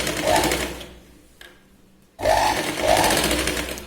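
A sewing machine double-stitches a blouse in two close, rapid bursts of stitching separated by a brief pause, loud and clattering with no voices.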